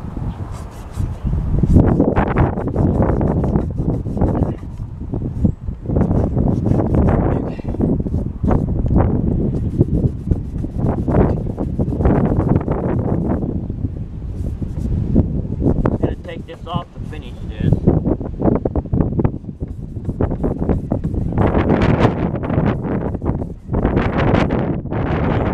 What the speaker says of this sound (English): And that's a cold wind.